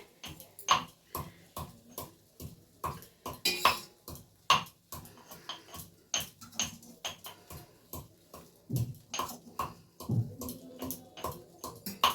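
Pieces of rui fish set one after another into a bowl, giving a string of soft clinks and taps of fish against the dish at an irregular, unhurried pace, close and fairly quiet, with no talking.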